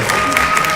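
Brief burst of audience applause at a ceremony naming a hanbok honorary ambassador, a steady wash of clapping from a seated crowd throughout the short moment.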